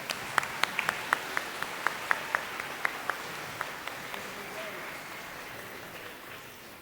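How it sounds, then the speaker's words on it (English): Scattered applause from a small audience for award nominees at an intermediate school awards day. About fifteen distinct, fairly close claps come in a loose rhythm and thin out and fade toward the end. "Let's give them a round of applause."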